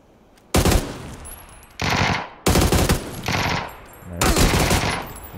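Automatic gunfire in the video game PUBG, several loud close bursts of rapid shots, each lasting about a second with short gaps between them, and no speech over the shooting.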